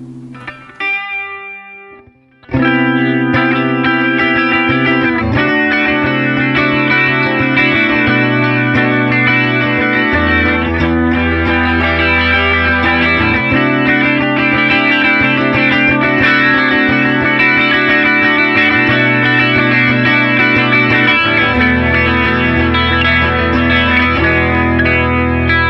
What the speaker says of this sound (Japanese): オンにすると、青空コーラスというエフェクトみたいです。